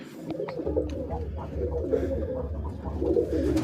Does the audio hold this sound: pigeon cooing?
yes